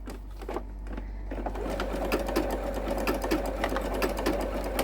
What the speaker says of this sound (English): I'm going to do a test stitch on it, and I will just use a scrap piece of fabric for that